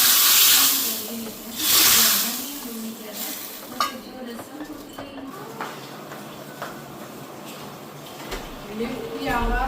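Desi ghee tempering with cumin, asafoetida and garlic hisses and sizzles in a pan for spinach moong dal, loud bursts of spitting fat fading to a softer crackle, with someone talking over it and a spoon clinking.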